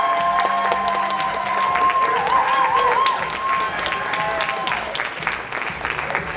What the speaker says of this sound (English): how about one more round of applause for all of the nominees